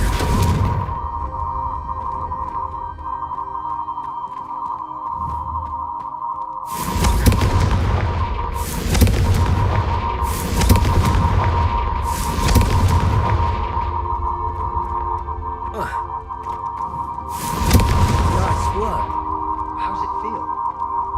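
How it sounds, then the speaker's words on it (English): Fiery Confringo spell casts in the video game Hogwarts Legacy, several loud booming blasts that burst and decay over a steady tonal hum, with voices speaking between them. "a Confringo cast travels a bit farther than that of a spell like Incendio"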